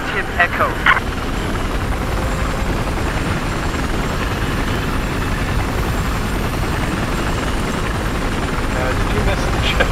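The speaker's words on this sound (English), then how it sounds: "I'm gonna get the chopper." A helicopter in the video game Battlefield 4 gives off a loud, continuous rotor and engine drone. Voices talk over it throughout.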